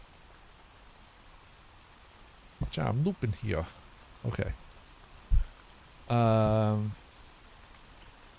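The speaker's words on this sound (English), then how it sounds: "uploaded that this rain sound to freesound.org" Looped rain recording from freesound.org: a steady, soft hiss of falling rain runs throughout, with someone talking over it and a brief buzzy tone near the end.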